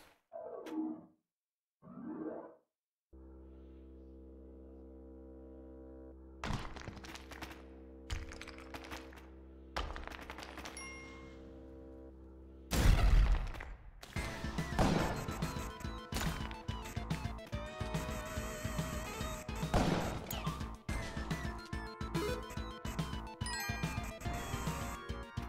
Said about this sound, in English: I'm just gonna bomb down over on this side.